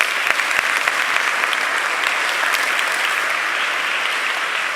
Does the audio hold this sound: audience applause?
yes